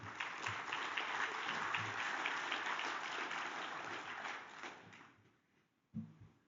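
Applause from an audience for a speaker at a U.S. Department of the Interior wildland fire service update, steady dense clapping that fades out over several seconds, followed by a brief isolated knock.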